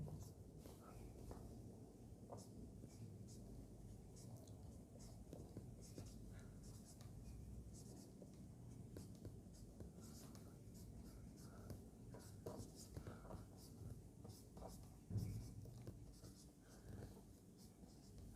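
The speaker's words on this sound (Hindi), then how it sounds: "देखिए सबसे पहले मैं टॉपिक का नाम लिख देता हूँ" Chalk or marker writing a topic name on a classroom board for a maths lecture on integration by parts, a steady scratchy scrawl running continuously at moderate level with no talking over it.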